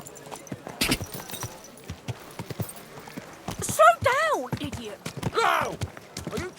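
Horse hooves clip-clopping in the medieval video game Kingdom Come: Deliverance 2, irregular steps under game music, with a voice calling out partway through.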